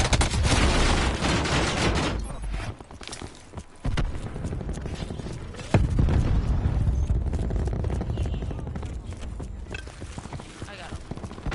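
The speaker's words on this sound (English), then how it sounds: "I'm gonna throw a grenade in there" Gunfire and explosions from a Call of Duty match, including a thrown grenade, come as dense bursts of shots with heavy booms, loud and continuous throughout.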